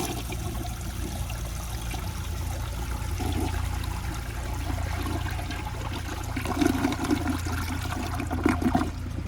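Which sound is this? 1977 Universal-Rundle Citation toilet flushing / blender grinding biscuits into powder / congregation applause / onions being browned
1977 Universal-Rundle Citation toilet flushing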